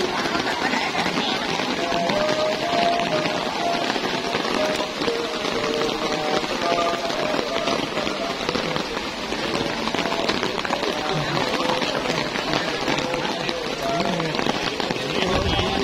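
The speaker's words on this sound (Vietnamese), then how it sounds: "Mưa lợp đợp đó nè, mưa rồi đó nha." Heavy rain pours down hard enough to flood the ground, a dense, loud and constant hiss and patter on surfaces that never lets up.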